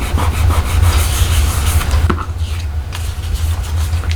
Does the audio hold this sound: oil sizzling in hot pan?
no